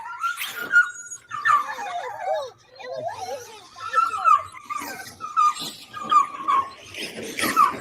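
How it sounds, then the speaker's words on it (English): A dog yelps, whines and barks excitedly at a radio-controlled Jeep, a continuous run of high agitated cries and squeals, close and fairly loud, with faint voices in the background. "Is it the Jeep that's got the dog all worked up?"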